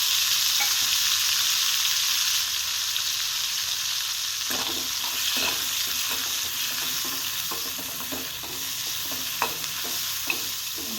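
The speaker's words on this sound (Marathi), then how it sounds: "हे धुवून घेतलेले स्वच्छ धुवून घेतलेले बॉम्बेल त्याच्यात टाकून ते आपण फ्राय करून घेऊ" Bombay duck fish frying in oil in a kadhai, a loud continuous sizzle with scattered scraping stirs and clinks of the utensil against the pan.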